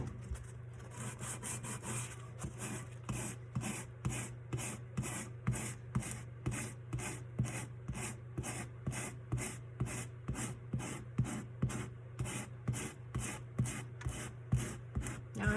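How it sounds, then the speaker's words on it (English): Sandpaper scuffing a tumbler by hand, steady rapid back-and-forth rubbing strokes in an even rhythm, fairly quiet and close, over a low constant hum. "I'm going to get my sandpaper back out and go like this. Start scuffing it up around there."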